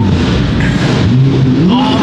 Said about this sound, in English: That Porsche is the loudest one.